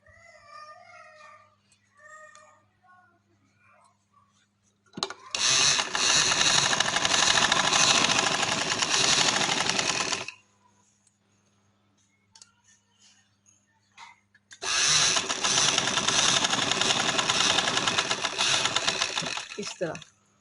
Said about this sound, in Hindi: जो हमारा बाकी बचता है पेपर पट्टी का हिस्सा हमने उधर सिलाई लगा लेनी है।